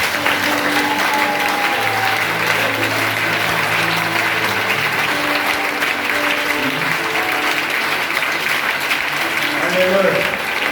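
A church congregation at a revival service applauds the Lord in a loud, sustained round of clapping and cheering that runs from start to finish, with voices mixed into the crowd noise.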